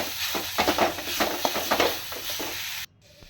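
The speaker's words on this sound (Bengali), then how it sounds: "দিয়ে একটু নাড়িয়ে নিলাম" Grated coconut is stirred in a hot kadai, giving a soft, dry scraping and rustle with a faint sizzle, close by, before cutting off abruptly near the end.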